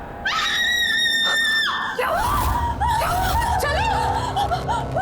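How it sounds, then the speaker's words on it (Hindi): A woman lets out a long, loud, high-pitched scream in a horror drama, followed by shrill wailing cries and sobbing sounds that continue without pause. "क्यों चिल्ला रही है?"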